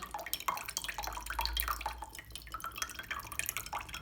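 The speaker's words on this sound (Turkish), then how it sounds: "Ve bunun üzerine sirkemi döküyorum arkadaşlar sirkeli bir su karışımı elde edeceğim." Vinegar poured into a container of water, a close trickling, dripping pour with a few splashy drops running steadily throughout, no talking.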